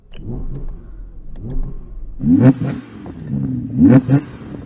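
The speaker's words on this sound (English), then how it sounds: "I'm going to rev this up." An Audi R8 naturally aspirated V10 engine revs repeatedly, rising and falling in several bursts, with the last revs louder and harsher, close by and without talk.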